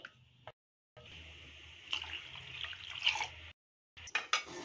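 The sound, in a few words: pouring a glass of water into dal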